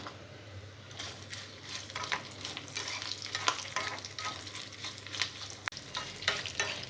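Fenugreek seeds, cumin, mustard seeds and garlic frying in oil, a steady soft sizzle with stirring scrapes throughout and one sharp click near the end, no voices.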